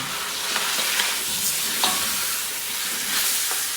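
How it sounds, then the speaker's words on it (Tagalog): Sautéed pork pata bulalo with bitter gourd being stirred in a pan, a loud, even frying hiss with light spoon scrapes and ticks spread across it, close up and with no speech. "Haluin muna natin yan"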